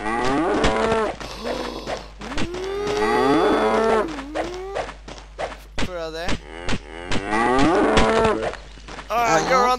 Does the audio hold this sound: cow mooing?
yes